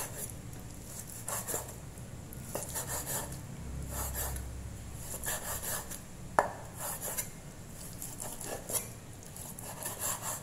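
Knife slicing through slightly sinewy raw beef on a board, a soft rasping, scraping rhythm of repeated strokes with one sharper knock partway through, steady and close with no talk.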